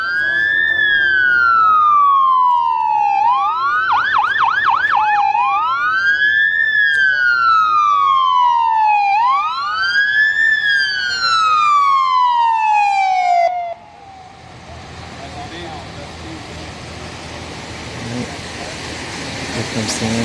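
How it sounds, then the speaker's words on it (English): An ambulance siren wails loudly at a drag racing track at night, its rising and falling tone repeating for about fourteen seconds before cutting off and leaving crowd and track noise. "Here comes the ambulance."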